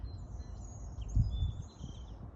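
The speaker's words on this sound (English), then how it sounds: "the birds in the air" Birds chirp and sing faintly in an outdoor natural setting with tall grass, flowers and trees, thin high calls drifting over a low rumble of wind or distant background noise.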